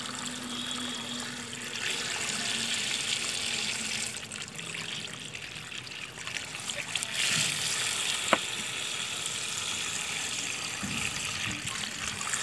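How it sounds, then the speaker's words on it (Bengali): Water from a pipe pours steadily into a waterlily bowl at home, a continuous close rushing and splashing flow with brief shifts in intensity and one sharp knock partway through. "আমি পাইপের সাহায্যে পানি দিচ্ছি, পানিটা সরাসরি গোড়ায় দেওয়া যাবে না"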